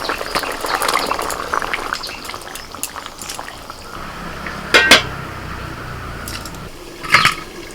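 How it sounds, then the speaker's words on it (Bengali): Vegetables boil in a pot of water seasoned with turmeric and salt, a steady bubbling hiss underneath, broken by a few sharp metal clinks of a spoon against the pot. "আনাজগুলো ফুটতে শুরু করেছে"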